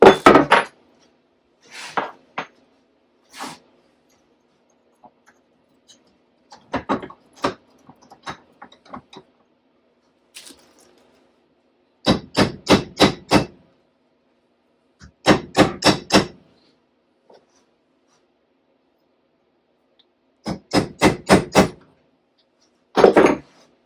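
Old rivet being worked out of a 1991 Lotus Esprit moon roof runner, heard as sharp, close metallic taps and clicks in short bursts and rapid clusters, separated by silence, with no talk.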